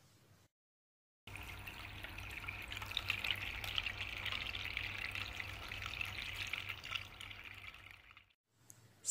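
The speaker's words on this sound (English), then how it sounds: "Sound of water." A garden water fountain flows steadily and fairly softly, a continuous splashing hiss heard alone for several seconds between brief silent gaps at the start and end.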